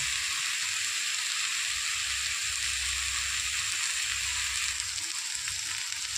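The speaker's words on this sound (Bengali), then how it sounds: "আজকে আলু আর পটল আলাদা করে উঠাইনি, একসাথে মশলা দিয়ে ভালো করে কষিয়ে নেব" Potato and pointed gourd fry together with spices in a pan, giving a steady, close, crackling sizzle that holds evenly throughout without talk.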